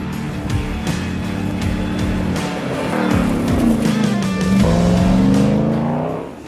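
Ram TRX pickup's 6.2-litre, 700-horsepower engine revving up and down in sustained low, rising roars, loud and close throughout with no talk.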